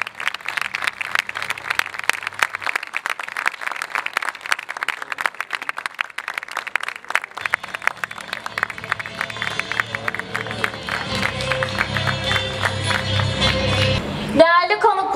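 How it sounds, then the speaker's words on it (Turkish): Applause and cheering from a crowd at a school graduation ceremony, dense steady clapping throughout with music and voices rising beneath it toward the end. "Alkışlarla onları izliyoruz."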